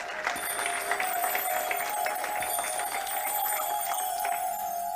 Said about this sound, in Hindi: शास्त्री जी को हम व्यासपीठ की ओर ताली नाद से हृदयपूर्वक स्वागत करें।